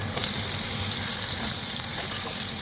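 Boiled giant taro added to a hot nigella seed tempering gives a steady, close sizzle with soft bubbling and faint stirring, no voices.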